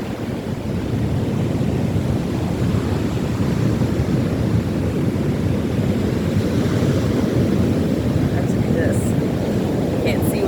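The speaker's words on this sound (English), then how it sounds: "Check out those waves." Ocean surf breaking on a beach in Portugal, a steady broadband roar of waves filling the whole stretch, loud and continuous with wind across the microphone and no clear individual breakers.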